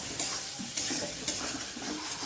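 Potatoes being stirred into a thick reduced curry in a pan, with soft scraping strokes over a low steady sizzle.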